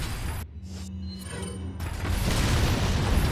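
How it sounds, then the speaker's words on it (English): Grenade blast in the video game Resident Evil 4 (2005, PC), a brief quieter gap with low tonal hum, then a broad rumbling explosion that rises and sustains loudly to the end. "just go ahead and use a grenade."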